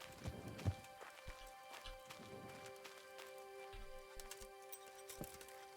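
Horse hooves in the video game Kingdom Come Deliverance, soft irregular clip-clops drawing nearer, faint and low under a quiet bed of ambient music tones.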